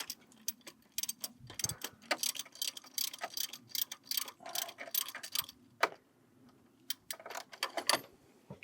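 A wrench ratcheting on the 19 mm bolt of a turbo coolant hard line on a 2011-2015 Mini Cooper S: rapid, irregular metallic clicks in quick bursts, close and fairly faint.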